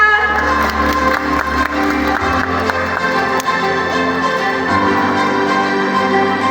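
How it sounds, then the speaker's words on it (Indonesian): An audience at an awards show in Bali claps and cheers steadily over loud stage music, the applause continuing throughout. "Tepuk tangan untuk Ibu Eva"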